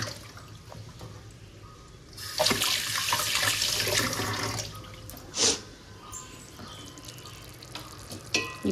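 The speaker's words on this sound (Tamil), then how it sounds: "அந்த பாத்திரத்தெல்லாம் நம்ம கழுவணும்." Tap water runs and splashes over cooking vessels being washed in a home kitchen sink, a steady rush starting after a quiet moment, with a few clanks and sharper splashes toward the end.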